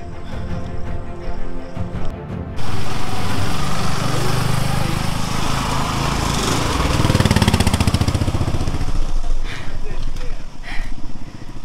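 Motorcycles climb a hill trail on Parasnath Hill in Jharkhand, the engine roar starting abruptly and staying loud and close with revving swells, while people talk over it.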